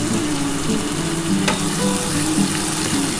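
Boiled freshwater snails frying with onion in a hot pan give a steady, close sizzle with faint scraping stirs, continuous throughout and without talk.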